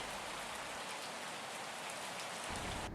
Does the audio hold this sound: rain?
yes